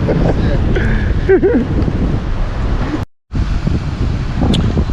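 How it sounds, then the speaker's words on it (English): Strong wind at sea buffets the microphone with low rumbling gusts, a short dropout midway, and a voice briefly present. "As I see, it's a bit windy."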